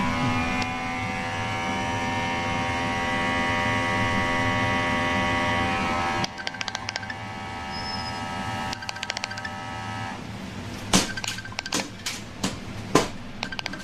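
A vacuum packing machine sealing chicken hotdogs drones steadily for several seconds, then stops, followed by a series of sharp clicks and clacks as the sealer cycles.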